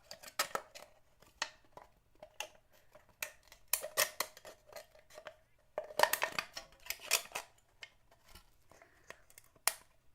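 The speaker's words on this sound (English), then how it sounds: "Cutting close to the folds is where it's really hard with the scissors" Scissors snip and slice through stiff folded material for a Princess Leia cosplay belt, giving a run of close, crisp cutting and crinkling strokes in irregular bursts, with no talking.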